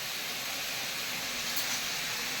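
A kitchen mixer grinder whirs as it grinds ginger garlic paste with almonds and cashews, making a steady, hissing, motor-driven roar throughout the short stretch.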